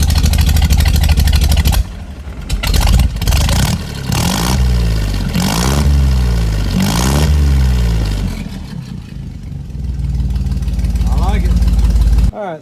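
A 1953 Willys Jeep CJ3B engine with a new open exhaust is revved hard, loud rumbling blips rising and falling in repeated surges over a steady idle, close to the microphone.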